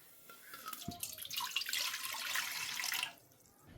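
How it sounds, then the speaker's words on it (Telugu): A small amount of water is poured from a vessel for dissolving powdered jaggery, a soft splash building into a steady trickling pour for about two seconds before stopping, close and quiet. "నీళ్లు పోస్తున్నా కొద్దిగా."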